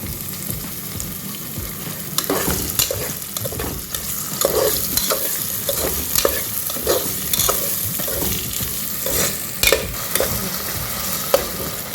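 Potatoes and sweet corn fry together in a pan with a continuous close sizzle, broken by frequent clattering stirs of a spatula against the pan.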